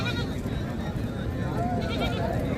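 Sheep at a livestock market bleat faintly amid a dense, busy crowd din, with the cries buried under the background chatter.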